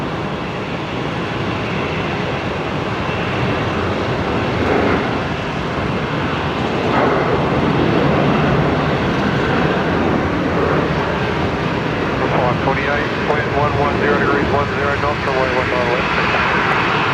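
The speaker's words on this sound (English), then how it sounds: "I can hear some props" A propeller aircraft, a Rex regional plane, flies near Brisbane Airport: a broad, steady drone that swells gently and holds for the full length, with voices talking over it.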